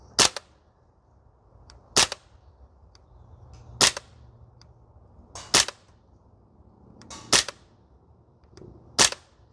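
Archwick APC9K PRO gel blaster firing single rounds on a range, six sharp cracks spaced about two seconds apart, crisp and near over a quiet background.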